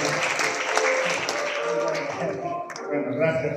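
A church congregation claps for newly installed altar servers, a steady burst of applause filling the room, with a voice speaking over it near the end.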